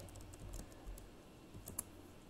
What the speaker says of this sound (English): try typing in slash class S.